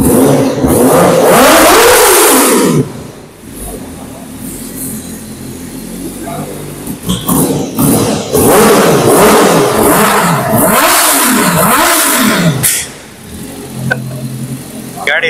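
A Honda CBR Fireblade RRR superbike engine revs loudly and close, rising and falling in repeated throttle blips with sweeping pitch, amid crowd noise and voices talking.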